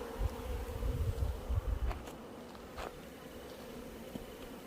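Steady insect buzzing, a dense hum of many honeybees at a beehive entrance with low rumbling bumps near the start, continuous throughout.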